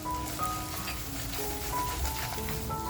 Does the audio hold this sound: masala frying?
yes